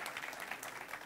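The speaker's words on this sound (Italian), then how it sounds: "E un applauso Daniela." Audience applause at a music festival finale, a brief burst of faint, dense clapping from a crowd.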